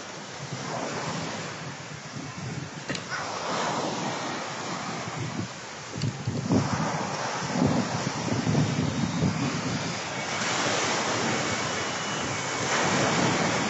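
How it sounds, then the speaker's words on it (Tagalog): Seaside wind gusts and rushes over surf on the coast at San Jose, Tingloy, a steady loud roar buffeting the microphone with the wash of waves underneath. "Sarap ng hangin."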